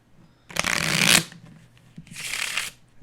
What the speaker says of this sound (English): I'll go ahead and shuffle both of these two piles into each other